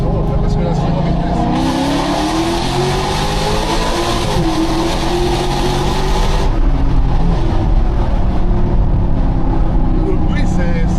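A car engine revs loudly and continuously while driving at speed, with changing engine pitch and some tire noise, under excited talk from people in the car.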